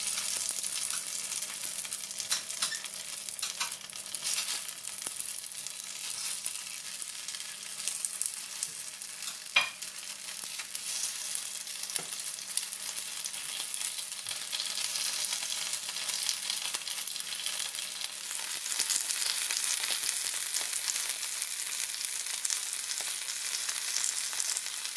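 Pork potstickers fry gently in a pan with oil, making a soft, continuous sizzle with a few light clicks and scrapes, fairly quiet and close.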